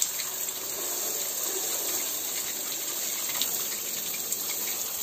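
Water running steadily while rugs are rinsed on a floor, a continuous splashing gush with faint brighter spatters, close and alone without talk.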